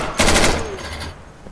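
Gunfire in the tactical shooter Insurgency: a loud, close rapid burst of several shots, then a decaying echo with faint scattered shots trailing off.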